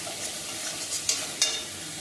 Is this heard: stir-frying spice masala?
yes